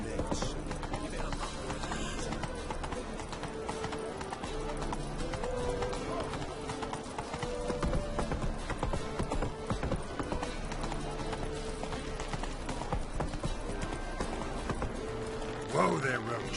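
The horse Roach gallops in The Witcher 3: Wild Hunt, a steady rhythm of clip-clopping hooves running under game music and ambience, with voices talking over it.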